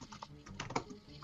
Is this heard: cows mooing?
no